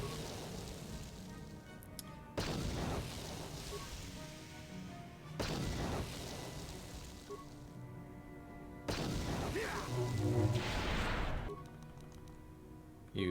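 Several frag grenade blasts from Star Wars: Knights of the Old Republic during a combat fight, bursting in loud separate booms over constant game music, with a brief gap of several seconds between each explosion.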